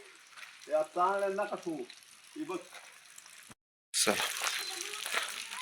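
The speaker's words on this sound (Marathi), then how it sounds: "सगळीकडे बघा कसा पाऊस आहे" Rain falling all around as a steady broadband hiss, loud and close, with a person talking over it at first before the rain continues alone.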